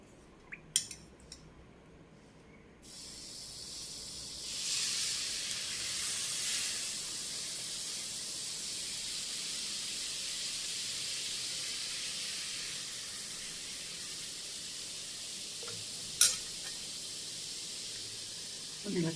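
Milk is poured into a hot pan of simmering, melting sugar for milk payasam, bursting into a loud, steady hiss and sizzle after a few light clicks, with a sharp clank near the end.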